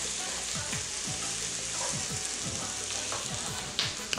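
Onions and chopped garlic sizzle steadily in a pan as they are stirred, a constant bright frying hiss with scattered scraping clinks and no talk.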